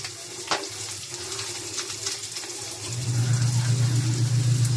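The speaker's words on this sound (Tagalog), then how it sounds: "sa gisa yung siling verde para kumatas yung anghang niya" Green chili peppers sauté in a pan with a soft background sizzle that swells into a louder, steady frying hiss partway through.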